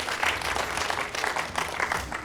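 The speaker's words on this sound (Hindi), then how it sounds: "जोरदार तालियों के साथ स्वागत हो जाए इनका।" Applause from a gathered crowd welcomes a participant onto the stage at a Bulandshahr, Uttar Pradesh event, a steady dense patter of clapping lasting a couple of seconds at moderate level.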